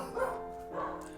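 Dogs bark nearby in two loud bursts about half a second apart, harsh and close, with little else around them.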